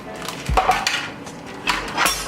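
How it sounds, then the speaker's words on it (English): Marinated tofu with peppers and onions being transferred into a bowl in a kitchen, with a few clinks and clatters of a utensil against dishware and soft knocks in between. "I'm going to put it all into a bowl."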